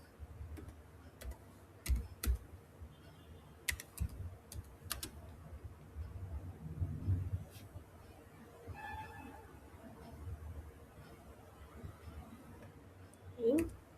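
Computer keyboard keys clicked in quick irregular bursts while an email is composed, close and fairly quiet, with short pauses between runs and a voice talking over parts of it.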